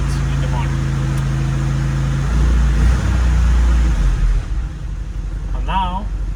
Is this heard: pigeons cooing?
no